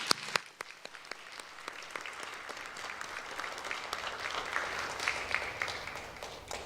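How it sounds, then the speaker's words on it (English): Graduation audience applauding for the teachers of the class of 2021, a faint, somewhat distant patter of many hands clapping that builds steadily and continues throughout, with scattered sharper claps near the start. "Let's give a round of applause for your teachers."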